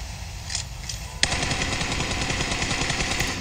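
Rapid bursts of PUBG Mobile gunfire, a few scattered shots and then a sustained loud automatic volley with steady rhythmic repetition.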